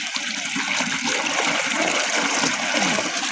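A Mahadhan 10-26 motor pump pushes a strong, steady gush of water on an onion farm, a continuous broadband rush with no breaks, fairly loud and close.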